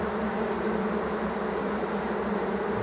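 Honey bees from a colony swarm around a queen cage in a steady, dense, close buzzing drone, unbroken and free of speech.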